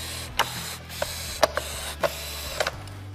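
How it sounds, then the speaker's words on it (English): A #2 Phillips screwdriver tightens a plate onto a trolling motor foot pedal: a steady mechanical hum runs throughout, broken by about seven sharp ticks and clicks spaced unevenly, close and fairly loud. "We're going to take our number 2 Phillips screwdriver and tighten the plate to the pedal."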